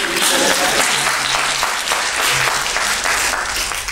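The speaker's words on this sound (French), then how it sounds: "Donc si vous voulez bien applaudir pour voir." A live audience at an eloquence contest applauds steadily, a dense wash of many hands clapping at even loudness throughout, with no speech over it.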